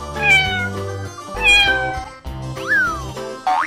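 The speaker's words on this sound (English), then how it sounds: "Cat." Cat meowing in a series of loud, close, rising and falling meows, three or four calls in succession over a musical backing.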